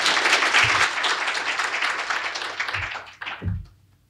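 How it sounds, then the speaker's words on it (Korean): A conference audience at the Korea Gas Corporation's KOGAS Forum applauds to welcome the company's president to the podium: dense, loud, sustained clapping that thins and fades over the final second. "최연애 사장님을 큰 박수로 맞이하여 주시길 바랍니다"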